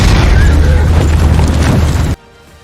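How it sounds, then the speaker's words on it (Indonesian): A loud, close explosion on a battlefield in a war movie: a heavy booming roar that rumbles for about two seconds before cutting off abruptly into near silence. "sebuah ledakan yang dekat dengan Nelson berhasil membuatnya jatuh"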